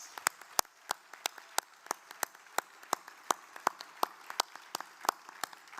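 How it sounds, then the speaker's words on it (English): Sparse applause at an award ceremony, a handful of separate, crisp claps ringing out in an uneven rhythm over a quiet room. "One more round of applause for Dr. Rojas."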